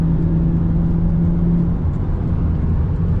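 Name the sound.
Lexus IS300 with carbon hood accelerating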